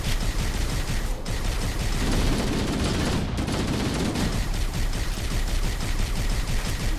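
Turret gunfire from Halo: The Master Chief Collection rattles nonstop at close range, a dense, loud barrage of rapid shots with heavy booms underneath that hardly lets up.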